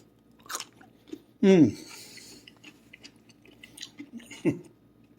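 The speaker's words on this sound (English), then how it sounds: "listen for the crunch" A sharp, loud crunchy bite into a fermented cucumber pickle close by, followed by a second smaller crunch a few seconds later, with quiet chewing sounds in between.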